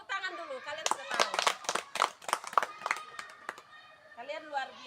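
Students in a physical education lesson on throwing and catching clap their hands in a burst of sharp, irregular claps over a few seconds, mixed with children's voices and a teacher talking at the start and end.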